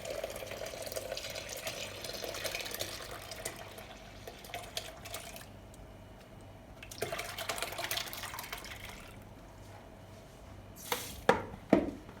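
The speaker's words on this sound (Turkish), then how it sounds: "Bunu bu şekilde tülbentimizden geçireceğiz. Yavaş bir şekilde ilave edelim." Liquid for a chilled citrus drink is poured slowly through a cheesecloth strainer, making a soft, steady trickle and splash that fades and returns, ending in a few louder clinks and drips nearby.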